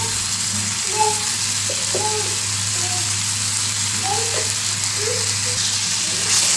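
Tomato bhaji with garam masala, red chilli and homemade spice mix sautés in a pan, giving a loud, even, continuous sizzle close by, with faint voices in the background.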